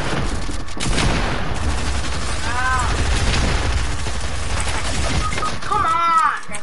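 Gunfire in a shooting video game inside a house, with dense bursts of shots running through the whole stretch under steady game noise, plus a couple of short tonal chirps from the game.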